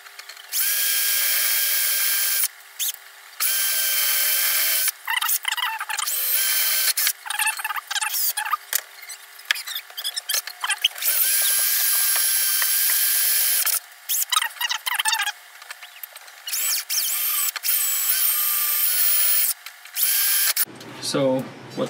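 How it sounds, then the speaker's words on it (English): A power drill whirs in repeated bursts of high-pitched spinning, starting and stopping over about twenty seconds, loud and close. "let the drill do the work."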